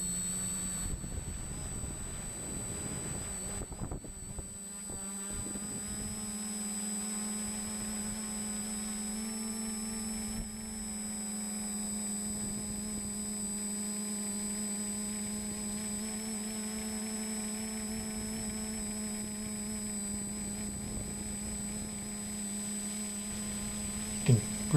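Batbone tricopter drone motors hovering in flight outdoors, a steady electric whine with strong tonal hum that shifts pitch slightly as throttle changes, constant and moderately loud, with light wind buffeting on the microphone.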